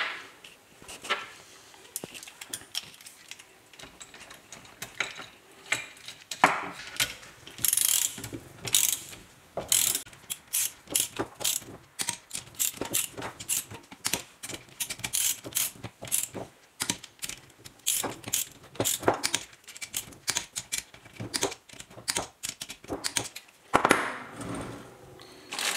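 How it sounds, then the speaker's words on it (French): A ratchet wrench tightens the 6 mm cylinder head cover screws on a Derbi Euro 3/4 moped engine, with long runs of rapid close clicks broken by short pauses and heavier turns. "Pour le serrer, vous mettez les vis de 6 du couvre-culasse d'origine. C'est de la vis de 6, donc du coup vous le serrez à 1 kg"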